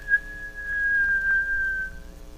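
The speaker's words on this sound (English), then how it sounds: "He pushed it open and gave a shrill whistle." A single shrill, steady whistle held for about two seconds, clear and close, with a slight waver and a soft drop in pitch near the end, against near silence.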